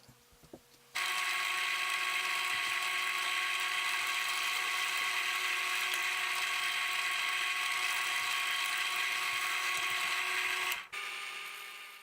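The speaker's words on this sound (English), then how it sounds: "The holes are then transferred to the holster and drilled." A power drill bores holes through a Kydex holster, a steady, loud high-pitched whine holding for about ten seconds after a sudden start, then stopping abruptly and leaving a quieter hum.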